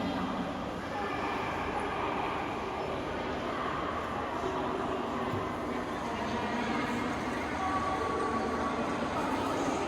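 Steady rumbling background of a Lao-China Railway high-speed train at Vientiane station, with indistinct crowd murmur and hum throughout; no distinct horn or passing roar.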